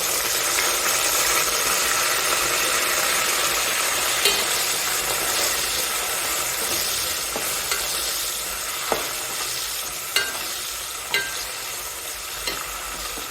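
Onions with curry leaves, green chillies and coriander frying in oil in a pan, a steady close sizzle broken by a few sharp clinks of stirring, with no talking.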